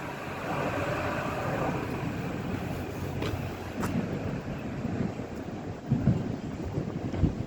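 Class 225 electric train pulling out of Nottingham station, a steady broad rumble and rolling roar with faint clanks, heard from the platform with some wind buffeting the microphone.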